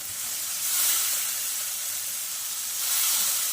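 Moong dal goes into a hot pan for Gujarati chhuti dal and sizzles with a close, constant hiss that swells twice, no voices over it.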